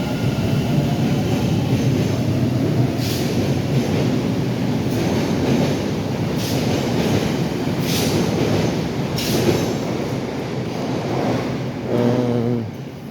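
Subway train at Roxbury Crossing T station rumbling steadily along the platform, with repeated metallic clacks and a brief wheel squeal near the end, fairly loud and continuous with no voices.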